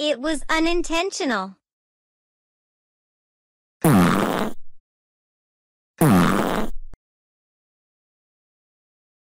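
Two short cartoon fart noises, each about a second long and loud, separated by silence, following a brief spoken line in an animated children's story set at a swimming pool.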